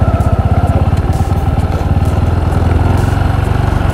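A Bajaj Boxer 150 motorcycle rides slowly over snow and ice, its single-cylinder engine chugging in a steady, close, loud rhythm that holds throughout with no talk.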